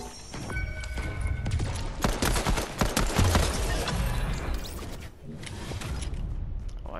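Scattered gunshots crackle in a shooter video game match, moderately quiet, with clustered bursts in the middle and softer shots toward the end, mixed with game movement sounds and occasional voices.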